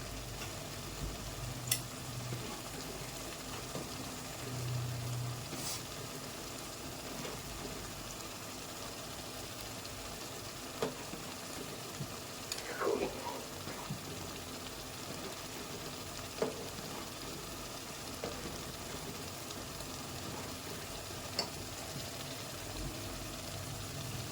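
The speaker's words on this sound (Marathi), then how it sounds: "बघा आपलं बिर्याणीचा मसाला किती छान शिजत आहे तेल पण शिजून शिजून असं वर येत आहे" Chicken biryani masala bubbling and simmering in oil in a pot, a soft, continuous sizzle with faint pops and occasional small clinks, fairly quiet throughout.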